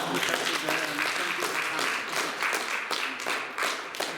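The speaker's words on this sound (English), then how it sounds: "let's give a big applause." An audience applauds at the close of a lecture on cognitive health, with dense, continuous clapping, fairly loud and close, filling the whole stretch and trailing slightly toward the end.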